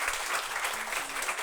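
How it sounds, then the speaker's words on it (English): A round of audience applause for a design panel at an evening event, steady even clapping heard at a moderate distance and fairly soft, with no talk over it. "Please give me a round of applause for our wonderful panel."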